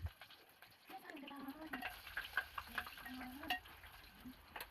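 Cumin and garlic sizzle and crackle in hot oil over low heat as they are stirred, a quiet, close frying sound with intermittent scraping taps and a faint voice.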